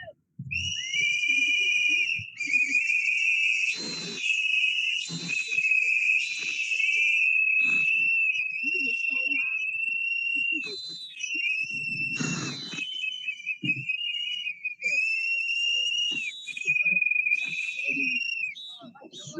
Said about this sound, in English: Got extra whistles if you want some.